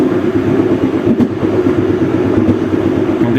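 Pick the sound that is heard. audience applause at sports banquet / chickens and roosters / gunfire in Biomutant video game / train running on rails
train running on rails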